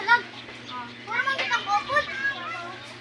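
Children play and shout while bathing in the sea, their high voices carrying from some distance, with an adult talking nearby.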